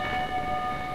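An arriving train in a Sherlock Holmes game sounds a steady, loud, multi-toned horn blast, sustained and unbroken over a low rumble, with no voices.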